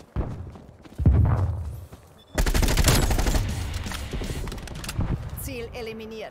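Automatic weapon fire in a Call of Duty: Black Ops Cold War team deathmatch: a thump, then a long, dense rattle of rapid shots up close, with a player talking alongside.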